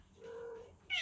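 A cat meows once from inside a kennel indoors: short, faint and mid-pitched, followed by a brief brighter sound at the end.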